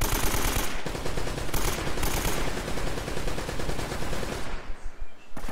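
Sustained machine gun fire from an enemy gunner in Uncharted: Drake's Fortune, in a fortress level, rattles in fast continuous bursts with brief breaks, loud and close throughout with no talk.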